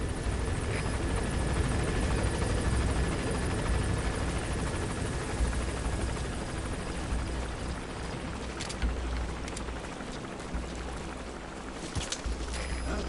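A helicopter's rotor in the video game Metal Gear Solid V: The Phantom Pain thrums in a constant, heavy wash of noise that fills the whole stretch, with a few faint clicks over the top.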